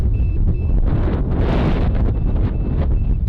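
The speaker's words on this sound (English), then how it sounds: "it's so windy that I couldn't get the drone back" Strong wind roars and buffets against the microphone, a constant heavy rumble with surging gusts and no voices.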